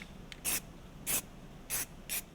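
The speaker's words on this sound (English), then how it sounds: "So I put my hand on my stencil and I spray everywhere else around." Never Wet base coat sprayed from an aerosol can around a hand-held stencil, four short hissing bursts spaced about half a second apart, close and crisp in a quiet room.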